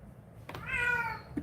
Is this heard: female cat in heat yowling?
yes